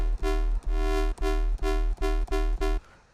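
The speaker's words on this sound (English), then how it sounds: "Enveloping is also very crucial when it comes to FM because you're then controlling the movement of the FM onto another oscillator" Synth notes from an FM patch in Ableton Operator, with the modulation shaped by an envelope, repeat as seven evenly spaced sustained tones with brief gaps between them. They sound loud and bright, then stop abruptly into near silence.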